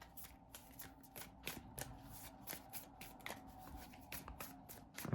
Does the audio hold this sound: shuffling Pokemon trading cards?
yes